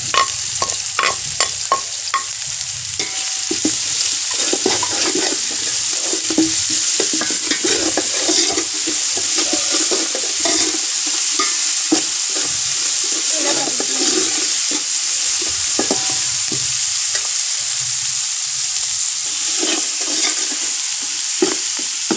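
Masala with ginger, garlic and salt frying in a pan, a steady loud sizzle running throughout with repeated scraping stirs of a spoon, no talking.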